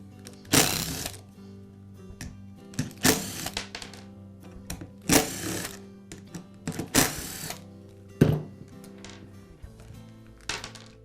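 Screws are backed out of the pad of a DeWALT sander with a hand tool, giving a series of irregular, close ratcheting clicks and bursts of gritty scraping amid quiet mechanical rattles, with no talking.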